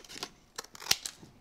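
A few quick, crisp snips of scissors cutting paper while trimming excess around a die-cut frame, irregularly spaced and close by, with no voices.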